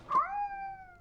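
A single drawn-out cat meow in the video game ORDER13, clear and tonal, rising then slowly fading over about a second.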